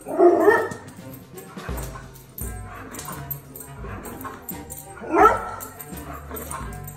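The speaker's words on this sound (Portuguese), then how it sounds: "quando a gente toca algum vídeo que tem áudio de cachorro" A dog barks and yips from a video played on a television, several loud bursts near the start and again around the five-second mark, with whimpering tones and a low background hum between them.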